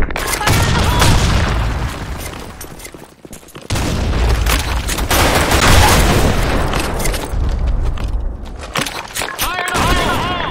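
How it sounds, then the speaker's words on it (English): Heavy gunfire and a grenade blast rattle through a multiplayer round of the shooter Blackshot, loud bursts of shots and booming impacts packed closely together, with game voice callouts mixed in. "Grenade! Fire in the hole!"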